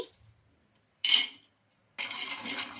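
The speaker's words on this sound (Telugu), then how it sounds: "ఇప్పుడు ఆ కడాయిలోకి మనం పల్లీలు అయితే వేసుకోవాలి." Peanuts poured into a kadai pan, with a short rattling clatter followed by a longer scattered tumble of nuts hitting the metal, close and fairly quiet.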